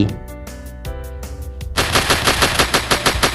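Automatic gunfire in a cops-and-robbers video game, heard as isolated shots at first, then a loud, rapid, evenly pulsing machine-gun burst that continues to the end.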